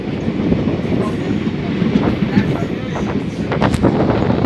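At Salakati railway station in Kokrajhar, a train rolls by with a loud, continuous low rumble and clatter of wagons, with gusts of wind buffeting the microphone and a faint squeal near the end.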